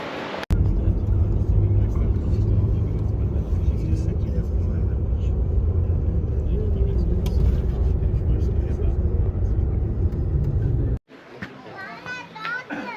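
A car drives along a road at sunset, its interior rumble steady and loud through most of the stretch, with voices and children's chatter over it before the sound cuts to a quieter scene.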